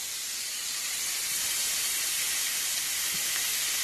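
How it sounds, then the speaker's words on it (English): Greens sauteing in a pan over a backyard cooking fire, a loud, steady, close sizzling hiss that holds unbroken throughout, with no talking. "So there's my greens, and I can add more if I want to. Saute that for a few minutes."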